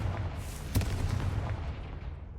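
A Confringo fire spell from the Hogwarts Legacy video game goes off as a sudden sharp blast, followed by a rumbling boom that gradually fades under a low background hum.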